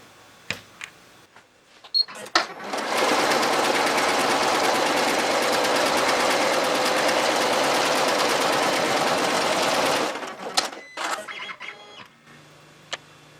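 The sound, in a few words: embroidery machine sewing an applique design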